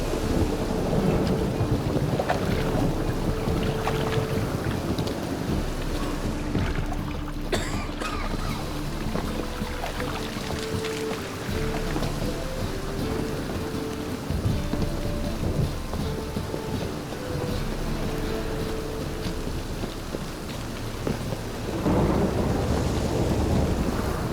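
Steady heavy rain and deep rolling thunder fill a storm scene in The Witcher 3: Wild Hunt. The downpour is constant and near, with low rumbles swelling beneath it and no voices.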